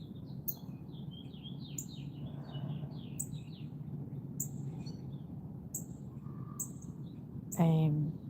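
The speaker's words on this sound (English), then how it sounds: "Oh, there's Mrs. Cardinal" A female cardinal at a backyard feeder during an afternoon gives short, high chirps, repeated every second or so at moderate distance over a steady low background hum.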